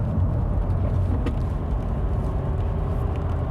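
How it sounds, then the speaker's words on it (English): A 2019 Volkswagen T-Cross with the 95 horsepower engine driving on a faster road, heard as a steady, dense low rumble of engine and road noise inside the cabin, continuous and without talk. "Let's see how this engine performs when you take it on a faster road."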